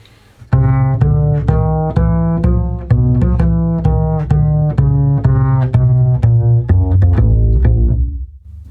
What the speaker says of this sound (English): So this whole bass line sounds like this.